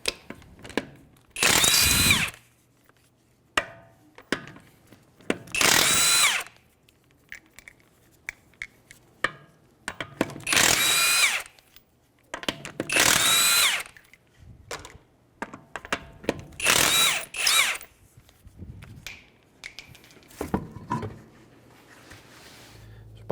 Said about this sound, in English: With the 21mm socket, we're going to go ahead and take our tire off.